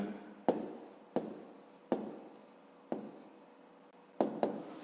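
A pen writes on paper in short, scratchy bursts of strokes separated by brief pauses, heard close up and fairly quiet, with no talking.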